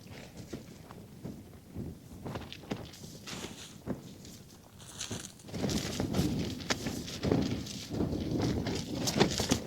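Wind buffets a Terra Nova Pioneer 2 tent at a high-wind winter wild camp in Shropshire, with the fabric flapping in irregular close gusts that grow louder and more sustained in the second half.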